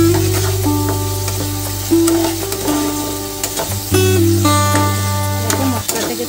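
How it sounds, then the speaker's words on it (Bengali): Spice paste frying in oil in a pan, a loud close sizzle under stirring scrapes, with tonal background music running throughout. "মশলাটাকে ভালো করে কষিয়ে নেব।"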